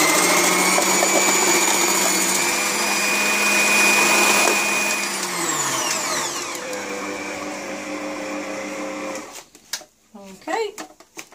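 Silvecrest food processor shredding celery, a loud whirring motor that winds down with a falling pitch after about five seconds, followed by rattles and clunks from the machine as it stops.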